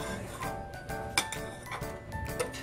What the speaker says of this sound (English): Stir it around as best as you can.